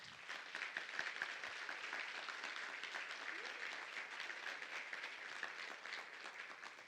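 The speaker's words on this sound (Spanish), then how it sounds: "quiero que le den un aplauso muy especial" Audience at a health-system panel applauds, a dense, even wash of clapping that holds steady and fairly faint, as if heard from across a large hall.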